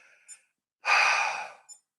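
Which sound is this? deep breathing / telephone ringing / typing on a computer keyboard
deep breathing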